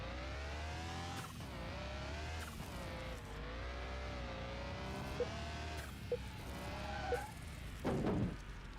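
A car engine in a video game drones and shifts pitch as it drives, with a few brief clicks and a short burst of scraping noise near the end.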